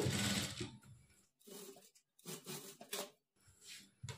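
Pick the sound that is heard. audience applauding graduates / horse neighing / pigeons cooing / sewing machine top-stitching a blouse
sewing machine top-stitching a blouse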